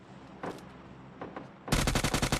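PUBG Mobile Lite gunfire: a few faint scattered shots, then a loud rapid automatic burst of closely spaced rounds near the end.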